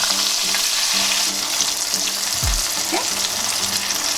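A pot roast seared in a pan just after being flipped big side down, giving a loud, continuous close sizzle throughout, with one brief spoken word partway through.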